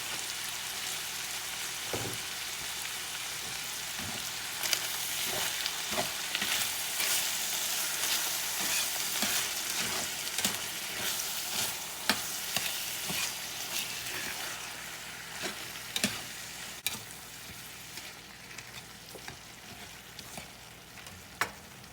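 About a tablespoon of tomato paste sizzles and simmers in a pan, a steady broadband crackle with scattered sharp pops and spits that hold at close range for the whole stretch, with no one talking.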